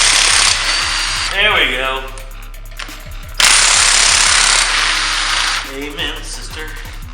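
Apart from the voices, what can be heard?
air impact gun removing bolts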